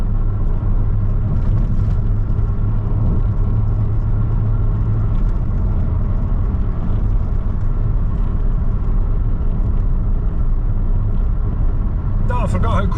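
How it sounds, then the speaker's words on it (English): Steady low rumble and road hum inside a Cadillac BLS with a 2.8 V6 turbo engine and automatic gearbox, cruising smoothly and fairly quietly, with a person talking over the constant drone. "I forgot how quiet this car is."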